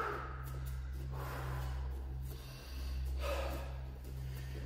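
Deep breathing during a home workout, with several audible breaths drawn in and out at a steady pace over a constant low hum.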